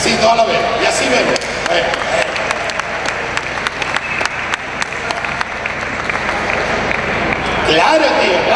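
A crowd at a Expogrow 2016 cannabis fair talk claps at length, dense sustained applause with scattered louder individual claps, a voice speaking briefly over it.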